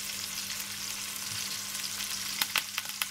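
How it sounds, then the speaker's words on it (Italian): A pork roast with thyme sizzles steadily in a hot pan, a close, even crackling hiss with a few sharper pops near the end and no talking. "senti come sfrigola"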